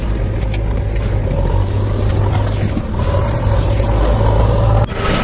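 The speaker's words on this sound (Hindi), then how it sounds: "जैसा आप लोग वीडियो में देख रहा है ऑल राउंडर ऑपरेटर ट्रैक्टर चल रहा है" A JCB backhoe tractor digging in India, its diesel engine droning loud and steady nearby with a low humming tone that dips briefly near the end.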